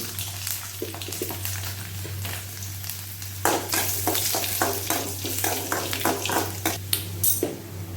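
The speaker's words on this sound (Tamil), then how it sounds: "கருவேப்பிலை, கொஞ்சமாக ஊற்றி வச்ச பூண்டு," Curry leaves and garlic frying in a pan of hot oil, a loud close sizzle and crackle that intensifies midway, with repeated stirring scrapes and no speech.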